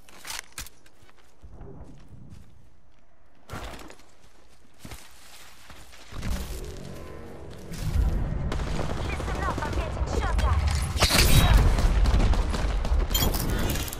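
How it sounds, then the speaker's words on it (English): Gunfire in the video game Apex Legends: sparse sharp shots at first, then sustained loud automatic bursts building toward the end, with footsteps and scattered game noises around them. "I'm getting shot at"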